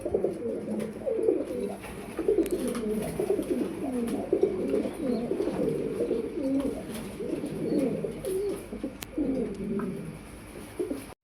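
Fancy pigeons at a breeder's sale, several birds cooing continuously in overlapping low throaty rolls, close and fairly loud, with faint background noise and no talking.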